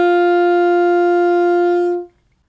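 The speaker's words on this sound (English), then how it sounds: "So this is the sound of D." An alto saxophone holds a single steady D for about two seconds, close and clear, before the tone cuts off into silence.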